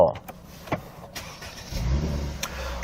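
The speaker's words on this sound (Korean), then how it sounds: "실내 안에 탑승을 해서 시동 한번 걸어보도록 하겠습니다 자 시동은 요 버튼식 시동이고요" Push-button start of a coupe-style sedan with variable exhaust, heard from inside the cabin: a few clicks, then the engine cranks and catches into a low rumbling idle that swells near the end.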